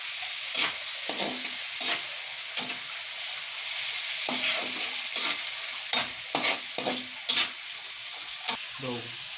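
Tomatoes stir-fried in a pan give a steady sizzle under a scatter of sharp scraping and clattering strokes from a utensil, irregular and close, with no talk.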